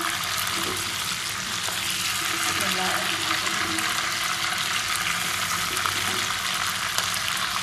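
Chicken pieces frying in a pan for a tomato chicken dish, a steady dense sizzle lasting throughout at close range with no pauses.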